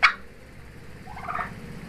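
A single loud turkey gobble rings out close by at the start, followed by a softer, muffled gobbling call a moment later.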